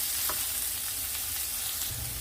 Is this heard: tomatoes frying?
yes